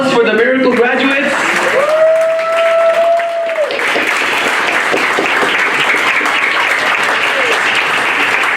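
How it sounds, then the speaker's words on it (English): Loud, sustained applause from a crowd at a graduation luncheon, cheering the graduates as a continuous wash of clapping with a whistle-like tone early on. "big round of applause for the Miracle graduates"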